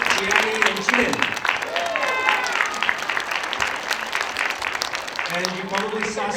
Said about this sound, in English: Let's give a round of applause to Faith, Pia, Gianni, and Jin.